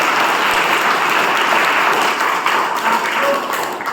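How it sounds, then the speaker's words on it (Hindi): Loud, dense audience applause fills a hall, a continuous wash of many hands clapping at close range without pause. "मैं चाहूंगा जोरदार ताली।"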